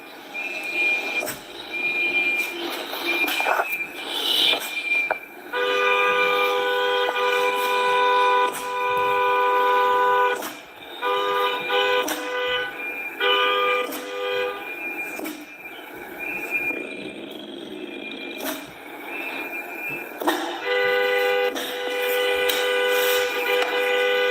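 A train horn sounds in a series of long, loud, sustained blasts separated by short gaps, repeating for over twenty seconds against a noisy background.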